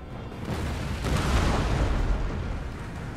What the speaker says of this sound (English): Good cannon blast, and they're still hitting the pikemen